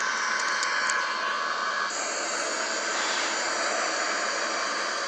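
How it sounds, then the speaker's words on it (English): Steady broadband jet engine roar of an Airbus A330-200 airliner in Microsoft Flight Simulator during descent toward landing, a continuous even hiss with a faint high whine, no talking. "the British American pilot flying the Airbus A-330-200"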